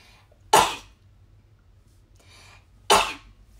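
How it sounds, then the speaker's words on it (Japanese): Two sharp, explosive sneezes close to the microphone, a couple of seconds apart, with a soft breath between them. "くしゃみでそう。"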